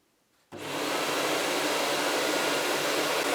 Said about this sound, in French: Je vous laisse regarder, je lance l'auto-vidage.